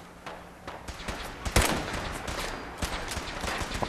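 Rapid bursts of gunfire in the video game Fallout 4, sharp cracks and short volleys scattered through a few seconds of combat, with one especially loud shot near the middle and no talk over it.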